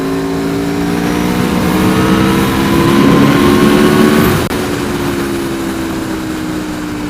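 A 2019 Aprilia V4 Tuono Factory motorcycle ridden on an open road, its V4 engine holding a loud, steady droning pitch that swells slightly as it pulls, then eases off abruptly before cruising on.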